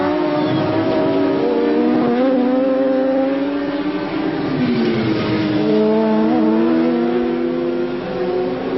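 Racing motorcycles including a Norton at Brands Hatch in a 1992 750cc Supercup race, engines roaring loudly and continuously with rising and falling revs as several bikes pass close together.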